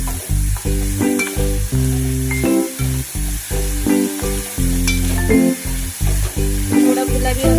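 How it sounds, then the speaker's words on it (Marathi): Onion and tomato frying in a pan for a sprouted matki curry, with a loud close sizzle and continuous rhythmic stirring and scraping. "आता घालूया कांदा आणि टोमॅटो। हे फ्राय झाल्यानंतर"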